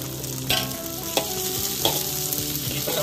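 Garlic, shallots and torch ginger flower fry in a pan with a continuous close sizzle, and a spatula scrapes the pan three times.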